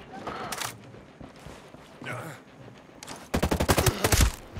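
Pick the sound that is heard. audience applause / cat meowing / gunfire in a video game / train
gunfire in a video game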